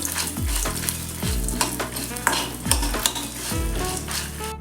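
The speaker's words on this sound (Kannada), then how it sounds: "ಒಂದು ಚಮಚ ಕಡಲೆ ಸಲೈ ಚೂರು ಸಾಸಿವೆ ಫ್ರೈ ಮಾಡಿಕೊಡು" Chickpea lentils and mustard seeds fry in hot oil for a Tulu tauthe puli koddel, with a steady sizzle under repeated scraping stirs of a spoon against the pan.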